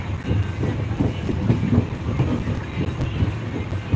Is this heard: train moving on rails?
yes